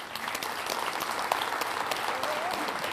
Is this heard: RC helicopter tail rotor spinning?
no